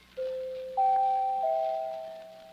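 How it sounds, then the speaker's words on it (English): A two-tone doorbell chime, a pair of clear ringing notes followed by a third overlapping tone that slowly decays, heard alone in a quiet room. "New doorbell, too."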